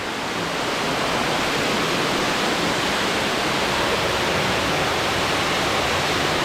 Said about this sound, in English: Very naturally forming waterfall here.